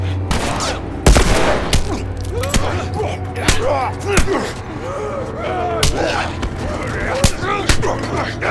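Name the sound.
gunfire from shooting in a video game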